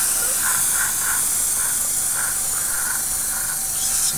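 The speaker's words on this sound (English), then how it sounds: "we'll just put some paint into the old airbrush. A little bit of a test to make sure she's flowing nice and neatly." An airbrush sprays paint in a test burst before painting a Tamiya 1/35 M48A3 Patton model kit, a steady close hiss of air with a series of brief pulsing spurts, no talk.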